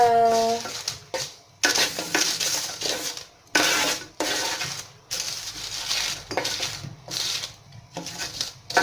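Roasted potatoes being stirred with sauce in a pan, repeated scraping and rubbing strokes broken by short pauses, close and fairly loud, with a brief voice at the start.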